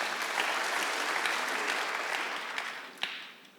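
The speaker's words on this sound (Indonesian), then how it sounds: "Tepuk tangan buat Tuhan Yesus." Sustained applause from a church congregation during a worship service, dense and even, with a few sharper claps and a single louder clap near the end as it begins to thin.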